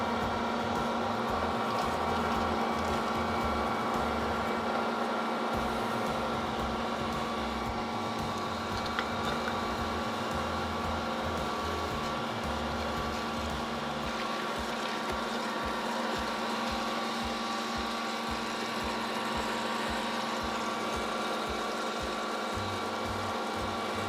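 An Ankarsrum stand mixer runs steadily while mixing cookie dough of creamed butter, sugar and eggs, giving a constant motor hum with a rhythmic mechanical churn, close and continuous, with no voices.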